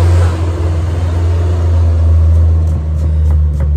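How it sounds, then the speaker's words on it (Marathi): A road vehicle passes out front with a loud, steady low engine rumble that swells and fades over a few seconds, with no talk. "गाडी गेली समोरून"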